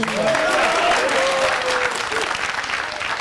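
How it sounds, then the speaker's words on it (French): A live audience breaks into loud, continuous applause on a French talk show set, with a voice calling out briefly over the clapping. "on va l'applaudir plus fort s'il vous plaît"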